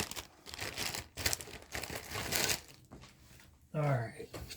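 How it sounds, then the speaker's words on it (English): Plastic packaging crinkles and rustles close up as it is opened, in bursts of crackling handling noise, with a brief voice near the end. "let me see if I can get this out of the package"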